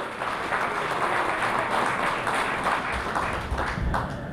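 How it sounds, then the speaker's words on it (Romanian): A crowd applauds steadily at an evening Christmas carol concert in Dărmănești, Romania, as someone is honored on stage. The clapping is dense, sustained and fairly loud throughout. "Haideți să-l aplaudăm."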